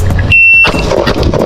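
A single electronic shot-timer buzzer at pistol practice with a Shadow Systems XR920, sounding as a steady pure tone for about a third of a second amid outdoor rumble.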